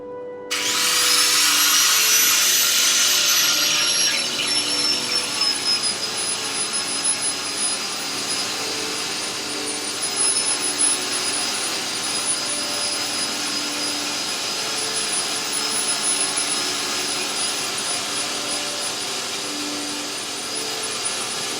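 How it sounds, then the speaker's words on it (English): A wire wheel power tool cleaning a rusty steel surface spins up abruptly and holds a loud, steady, high-pitched whine with a harsh broadband scraping hiss, running continuously and close by with no talking. "Keep a strong, firm grip on the wire wheel, but don't force it down into any position."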